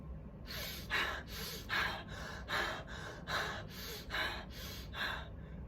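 Rapid, forceful hyperventilating breaths repeat in a steady rhythm, about two per second, each a sharp airy rush close to the mic, with no talking.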